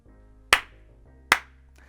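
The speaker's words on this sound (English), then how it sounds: "The clapping that I do before all the YouTube videos is just to sync up the video that I get from my camera to the audio" Two sharp, isolated hand claps ring out less than a second apart in a quiet room, made to sync camera video with recorded audio.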